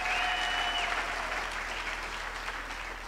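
A graduation ceremony audience claps steadily for the choir master, a dense wash of applause holding fairly even throughout and easing off slightly toward the end, with a faint sustained tone sounding briefly at the start.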